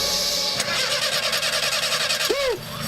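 A motorcycle engine cranks and sputters, giving a rapid rough chugging that holds steady and then cuts out near the end. A brief tonal swoop follows, all close and loud.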